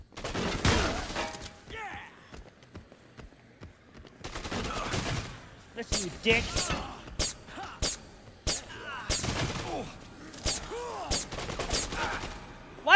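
Gunfire from a weapon in Dead Rising 2, several broadband bursts scattered through the scene, moderately loud, with a voice talking between and over the shots.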